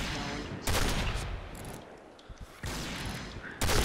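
Bursts of rapid gunfire in the online shooter Point Blank come and go in loud volleys, with quieter gaps between them where faint voices can be heard.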